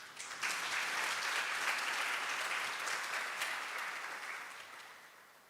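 A conference audience breaks into sustained applause after a presentation, a dense wash of many hands clapping that swells quickly, holds steady, then tapers off gradually.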